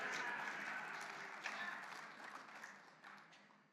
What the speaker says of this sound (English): You can clap, A-10 guys, that's good.